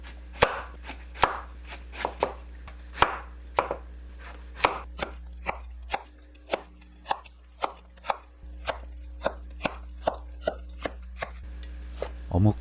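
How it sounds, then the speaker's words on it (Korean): A knife julienning carrots on a cutting board for gimbap, crisp evenly spaced chops knocking close and clear, about two per second, with no talk. "당근을 채 썹니다."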